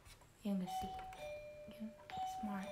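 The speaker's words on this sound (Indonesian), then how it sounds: "Itu suara bel lagi." A newly bought doorbell chimes indoors in a few clear ding-dong tones, with people talking casually around it.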